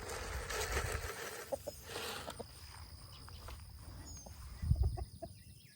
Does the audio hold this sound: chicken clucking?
yes